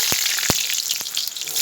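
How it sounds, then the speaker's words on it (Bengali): Potatoes frying in oil in a wok, a steady bright sizzle throughout with a few sharp pops and spatters, close and alone without talk. "সবার প্রথমে আমি আলুগুলো ভেজে নেব।"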